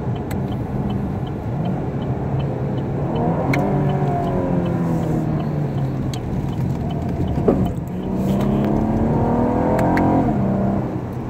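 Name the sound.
2017 Chevrolet Camaro engine while downshifting with paddle shifter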